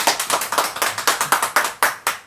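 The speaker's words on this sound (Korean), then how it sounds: "우리 장로님 나올 때 한번 박수로 환영해 주시면 감사하겠습니다." A church congregation claps steadily to welcome an elder to the front, giving a brisk, even train of loud, close handclaps with no talking over them.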